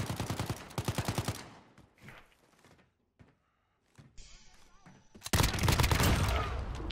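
Call of Duty: Modern Warfare firefight with sharp bursts of gunfire and heavy explosive thumps, first in a dense cluster, then a quieter gap, then another loud burst near the end.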